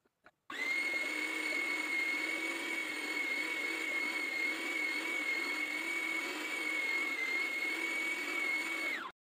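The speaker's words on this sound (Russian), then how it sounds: "Помидоры и чеснок мы перекручиваем на мясорубке." A meat grinder minces tomatoes and garlic, its motor starting abruptly and holding a steady, loud whine with a strong sustained tone for about nine seconds before cutting off, heard alone without talk.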